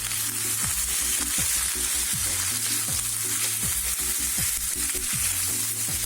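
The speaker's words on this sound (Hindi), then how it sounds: "प्याज ब्राउन हो गई है, अब इसमें मैं कीमा डाल देती हूँ।" Minced meat sizzles with browned onions in a pan, a dense continuous frying hiss heard up close at a steady level, with a repeating low rhythmic hum running underneath throughout.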